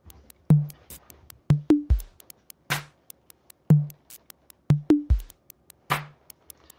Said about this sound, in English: this is the drum beat we get out of it.